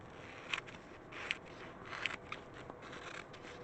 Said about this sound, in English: So I guess I could just get a pair of scissors.